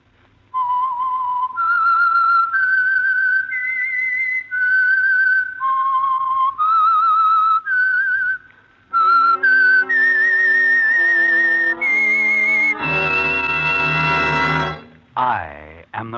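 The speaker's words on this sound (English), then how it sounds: "the signal to listen for is this whistle that identifies the Signal Oil program" Whistled theme identifying the Signal Oil radio mystery program, a clear solo melody of sustained notes stepping up and down, played alone and loud, ending in a rising orchestral swell.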